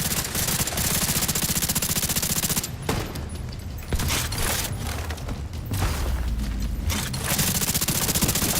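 A hostile assault turret in The Division 2 fires dense, rapid bursts of automatic gunfire, loud and close, with brief gaps and shifting intensity between volleys.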